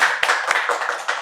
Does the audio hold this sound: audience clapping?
yes